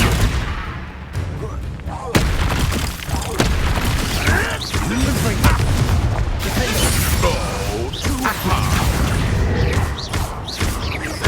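Confringo fire spell explosions in the Hogwarts Legacy video game, a dense run of booming blasts and crackling impacts layered with game voices and a spoken spell incantation.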